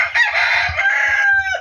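A rooster, a fighting-cock breed, crows once in a loud, close, drawn-out call that rises and holds before dropping off at the end, with faint low thumps underneath.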